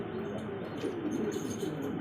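Pigeons, including a pair of Mundian black check birds kept at a seller's loft, coo in soft, low, murmuring tones with faint chirps and rustles blended into a continuous background.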